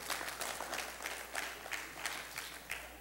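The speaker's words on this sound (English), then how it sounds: "Come on, y'all to clap your hands right there." A church congregation claps their hands during a sermon, rapid sustained clapping heard at a distance and fairly quiet, with a low hum underneath.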